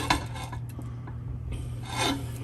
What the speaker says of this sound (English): So I'm using a slotted spoon to let all the grease seep out before I